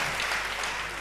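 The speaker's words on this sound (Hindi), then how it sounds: "जरा दोनों हाथ खड़े करके तालियां बजाइए आपके।" Audience clapping at a Hindi comedy poetry gathering, a dense continuous wash of applause filling the whole moment with no voice over it.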